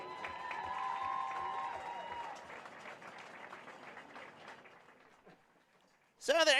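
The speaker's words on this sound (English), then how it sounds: "One more round of applause for this year's homecoming court." Applause and cheering from a crowd at a high school football game's homecoming court ceremony, a sustained round of clapping that slowly fades, then a sudden loud burst of noise at the very end.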